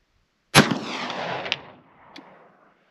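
One sharp blast from a 20 gauge Citadel Boss SS coach gun firing a slug outdoors at a rock about 100 yards off, followed by a rolling echo and a faint distant impact crack about a second and a half later.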